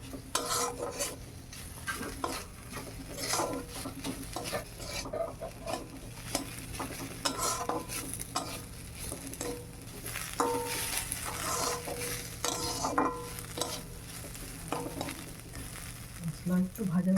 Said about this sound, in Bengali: মশলা একটু ভাজা ভাজা হয়ে গেছে